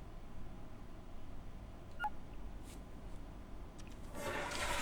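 In the video game Abiotic Factor, a toilet flush rises at the end as a soft whooshing rush of water, preceded by a few faint clicks and beeps over a low steady background hum.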